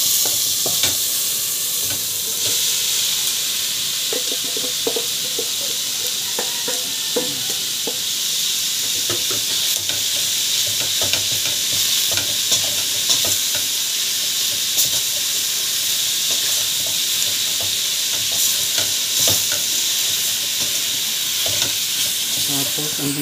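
Ground pork sizzles steadily as it fries in a pan for a Filipino giniling dish, with frequent scraping stirs running through the continuous hiss and no talking.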